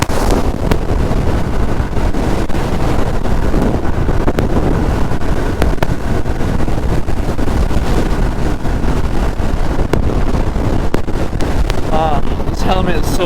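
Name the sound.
wind noise riding a 1978 Honda Goldwing motorcycle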